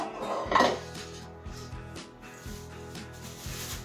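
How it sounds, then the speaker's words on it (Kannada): A knife chopping cabbage on a board in a home kitchen, quiet repeated cutting strokes in an uneven rhythm, with a louder clatter of utensils near the start. "ಇನ್ನೊಂದು ಎಲೆಕೋಸು ತೊಗೊಂಡು ನಾನು ಸ್ವಲ್ಪ ಅದರಲ್ಲಿ ಕಟ್ ಮಾಡ್ಕೊಳ್ತಾ ಇದ್ದೀನಿ"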